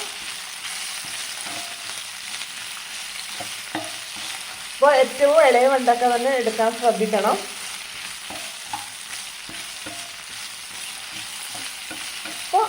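Okra sizzles and stirs in a hot pan, a loud burst of frying and scraping for a couple of seconds amid quieter background, with someone speaking briefly.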